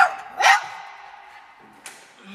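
A single sharp dog bark sounds fairly close, followed by a fainter short yelp, with a quiet tonal background and no talking.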